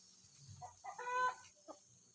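Free-range native village chickens, kept semi-free-range, give a few short, faint clucks and a brief rising call in a quiet setting, with no talk.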